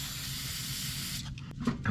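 A spray can hisses steadily onto a suspension part of an abandoned 1969 Chevrolet Camaro, a close, continuous spray that cuts off after about a second, followed by a few clicks and handling noises.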